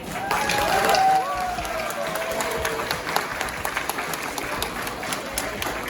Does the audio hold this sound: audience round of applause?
yes